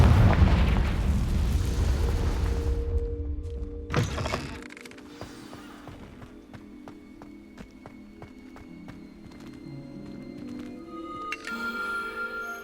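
Confringo spell explosion in Hogwarts Legacy, a heavy booming blast with a rumbling low roar that fades, followed by scattered magical chimes, taps and tonal game effects.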